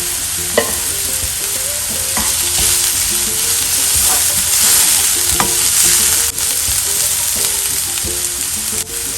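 Finely chopped green chillies fry loudly in a pan for chole, a dense, continuous sizzle close to the mic with a spoon scraping and stirring at intervals.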